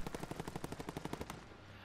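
Rapid automatic gunfire coming from above in Call of Duty: Modern Warfare Rebirth, a steady burst of about fifteen evenly spaced shots that stops abruptly, fairly close and sharp, with no talk over it.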